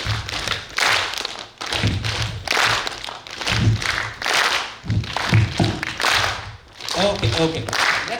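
An audience at a Toastmasters district meeting stomps and claps in rhythmic bursts of thuds and taps, loud and crowded, repeating in waves with short pauses between.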